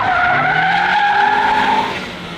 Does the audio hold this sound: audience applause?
no